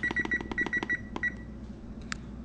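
Oven timer keypad beeping as it is set, a quick run of short bright electronic beeps in a rapid cluster, then a pause and one final beep, close and fairly quiet.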